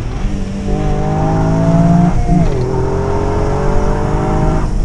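A Toyota GR Yaris accelerates hard up close, its engine note climbing steadily through the revs, dropping at a quick gear change, then rising again with a loud, strained roar over road noise.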